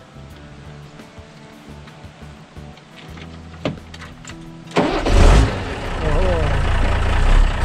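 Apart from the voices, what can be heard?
Mercedes-Benz 1114 truck engine starting and idling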